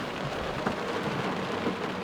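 Rain just beginning to fall outdoors at an adventure park in Otepää makes a steady, even hiss of patter with no break.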